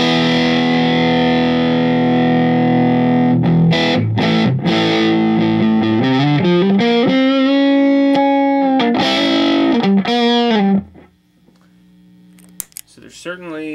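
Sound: electric guitar through Honey Bee overdrive pedal, neck pickup

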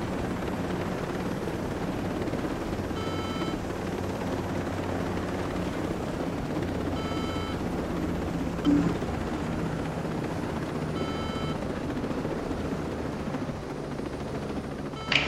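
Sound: helicopter in the video game Ghost Recon Breakpoint

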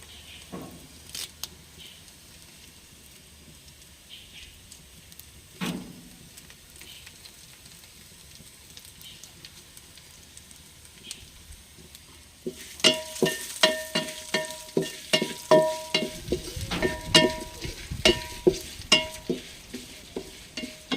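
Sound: curry leaves frying in a pan

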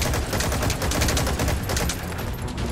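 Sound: Gatling gun firing in video game Metal Gear Solid V

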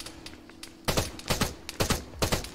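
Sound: artillery rounds hitting nearby in video game

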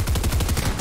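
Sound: gunshots in a video game

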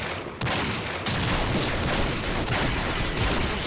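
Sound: gunshots in video game Combat Arms

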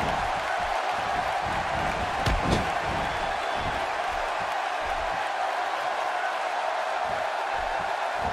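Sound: wrestling arena crowd cheering during Smackdown match

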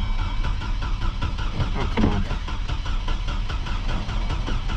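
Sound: four-cylinder Chevy Colorado engine being cranked

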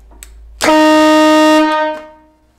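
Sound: cheap air horn blast

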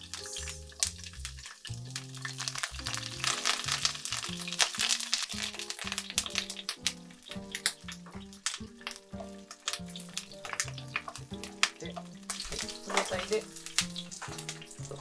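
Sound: rapeseed blossom stems frying in a heated frying pan

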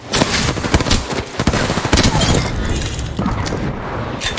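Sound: gunfire in a shooter video game

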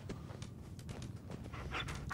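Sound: dog footsteps and panting in Fallout 4 video game

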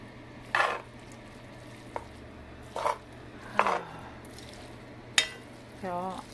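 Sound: stirring Spam fried rice in a pan

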